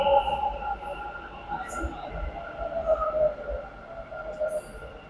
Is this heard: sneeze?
no